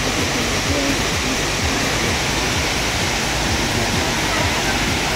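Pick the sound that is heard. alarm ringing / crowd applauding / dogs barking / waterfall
waterfall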